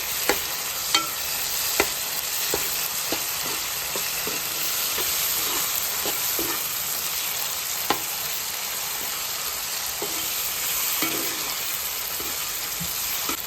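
Chana dal with ginger garlic paste sizzles steadily in hot oil for a cauliflower curry, a close continuous fry with scattered light pops and stirring clicks throughout, no voices.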